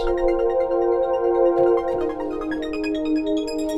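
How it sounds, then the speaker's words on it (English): Korg MS-2000 synthesizer plays an arpeggiator-style patch: a sustained bright chordal tone with rapidly repeating, shimmering notes stepping through pitches, steady and moderately loud with no voices. "Or arpeggiator type sounds like this."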